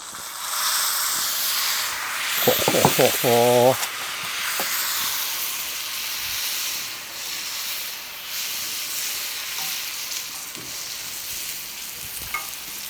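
Onions and a pork chop fry on a coal shovel, giving a continuous close hissing sizzle, with a short burst of rattling scrapes early on.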